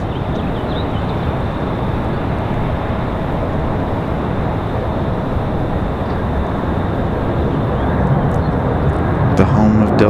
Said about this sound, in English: Now we swing to our 737. Again, this one coming in from Atlanta.